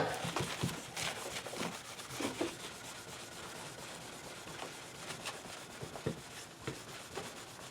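Soft, repeated rubbing strokes come from a cloth wiping excess cleaner off the fretboard of a Schecter Exotic Star guitar. The strokes are close and irregular, with no talk.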